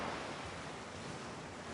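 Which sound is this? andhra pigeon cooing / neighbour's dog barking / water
water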